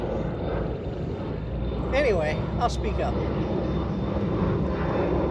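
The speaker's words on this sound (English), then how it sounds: "Hello airplane, perfect time to take off." A fixed-wing airplane taking off overhead near a home roars loudly and steadily throughout, its engine drone rising slightly toward the end while someone speaks briefly over it.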